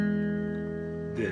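A guitar chord played in open tuning with a capo rings out close and sustained, its notes slowly fading, before another string sound enters near the end.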